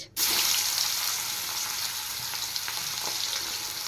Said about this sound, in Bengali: এবার আমি দিয়ে দেবো তেলে কুচিয়ে রাখা পেঁয়াজ।